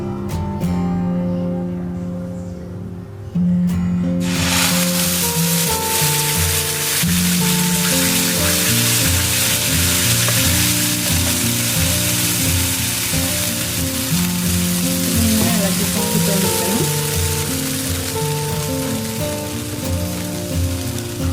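Leftover-rice halwa mix is poured into a hot pan and erupts into loud, close, continuous sizzling and crackling that holds steady to the end after a quieter opening moment, with no voices.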